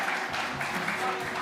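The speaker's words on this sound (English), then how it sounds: "can we just give him another big round of applause?" Applause from an audience at a students' guild officer election results night, a brief steady patter of clapping mixed with voices.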